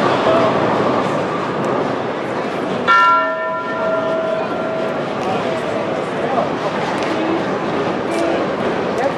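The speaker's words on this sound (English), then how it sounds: "you may begin your event at the sound of the bell" A single bell rings out to signal the start of a bowling competition, its bright tone fading over a couple of seconds. Steady crowd chatter and bowling-alley din continue throughout.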